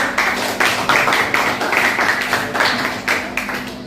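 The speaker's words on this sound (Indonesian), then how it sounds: "Oke, kita beri aplaus dulu." Classroom audience claps together, a brisk, steady patter of many hands lasting several seconds, fairly close and loud with no speech over it.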